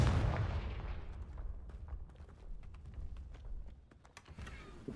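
The Confringo blasting spell cast in Hogwarts Legacy, a sharp burst at the start followed by a decaying rumble and scattered crackling impacts, moderately loud with no voice over it.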